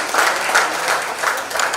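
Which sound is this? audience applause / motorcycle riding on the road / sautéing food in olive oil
audience applause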